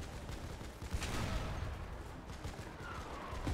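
Gunfire rattles through a tank combat video game, with quiet, scattered bursts and a few sharper cracks buried in a dense, rumbling wash of battle noise.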